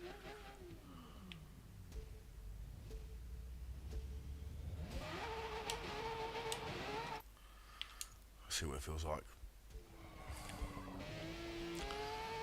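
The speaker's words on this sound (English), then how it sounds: "So this is a stock engine, sounds like a beast," A stock car engine in the racing video game Forza Motorsport roars steadily with rising and falling pitch, gear-shift dips and clicks, while someone talks over it.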